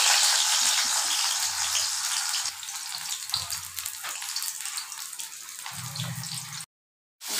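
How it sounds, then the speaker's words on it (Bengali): Pumpkin-leaf and shidol fritters frying in hot oil, a loud, steady bubbling sizzle close up that runs without a break, with faint low knocks underneath, before cutting out abruptly near the end. "ওখানে এটা ভাজুম। আমার তেল গরম হয়ে গেছে। ওখানে এই বড়াটা একটা একটা দিয়া দিন।"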